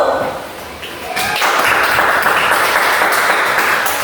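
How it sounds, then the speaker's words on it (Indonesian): Primary school classroom applause for a student group at an Indonesian elementary school, a burst of many small hands clapping that swells after a brief lull and carries on steadily, with faint talk at the start. "Sekarang berikan tepuk tangan untuk kelompok 1 dulu"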